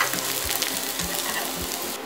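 Minced shallots fry in hot oil in a pan, giving a steady, dense sizzle and crackle throughout, with a few soft low knocks underneath.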